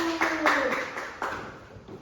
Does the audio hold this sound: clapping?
yes